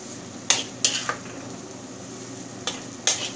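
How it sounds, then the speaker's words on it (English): Hokkien noodles with gai lan are stir-fried in a wok. A handful of sharp metal scrapes and clanks from the utensil ring out over a faint, steady sizzle, with no talking. "So fry this well, scatter the chili."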